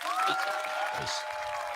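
Scattered clapping from a small group, with a voice briefly heard over it.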